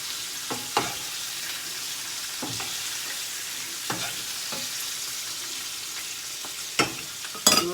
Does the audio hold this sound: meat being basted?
yes